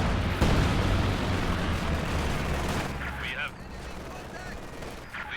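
Rapid gunfire and explosions from a Company of Heroes match keep up a dense, continuous roar of battle, with a heavy burst near the start, and a commentator talks over it.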